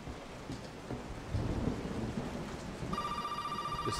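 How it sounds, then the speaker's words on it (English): A rumbling, noisy background gives way to an electronic telephone ring in the video game Resident Evil 7, a steady bright tone that sounds in the last second or so. "Phone's ringing."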